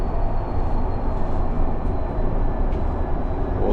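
Interior of a city bus in Freiburg en route to the stadium: a steady, loud low-pitched rumble and road drone with faint rattles, no talking.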